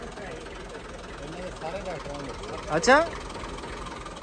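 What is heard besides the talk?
Massey Ferguson 240 tractor engine starting and idling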